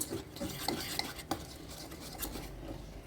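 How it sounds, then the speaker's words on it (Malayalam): Dhokla batter being stirred in a bowl, a continuous close wet swishing with scattered light clinks of the spoon against the vessel throughout. "മിക്സ് ചെയ്യുന്നത് കണ്ടോ, ഈ പിന്നെ കൺസിസ്റ്റൻസിയിൽ വരണം നമ്മുടെ ബാറ്റർ."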